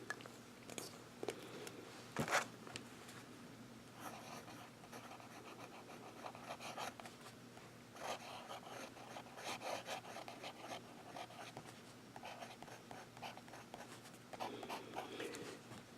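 Lamy Safari fountain pen nib scratching across paper in close, soft strokes, with faint rustles and a few sharper taps between stretches of writing.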